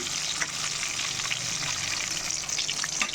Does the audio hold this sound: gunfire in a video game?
no